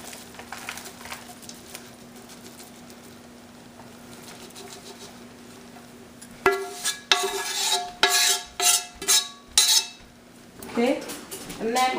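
Spoon stirring a gur papri mixture of jaggery in a pan, with scraping and clinking strokes that start after a quiet stretch and come in quick, loud bursts close by.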